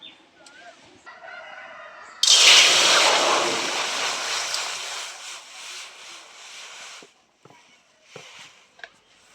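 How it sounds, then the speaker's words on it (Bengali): Water pours into a wok over a lit stove to boil jackfruit, a loud rushing splash that starts abruptly, holds for several seconds and tapers off, followed by a few faint knocks. "আবার কড়ার মধ্যে জল দিয়ে দিচ্ছি।"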